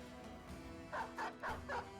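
Dogs barking in the video game Battle Brothers: four quick, fairly loud barks in a steady rhythm over a low game soundscape, with no talking.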